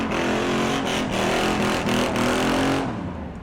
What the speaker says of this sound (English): Frank doing a burnout for second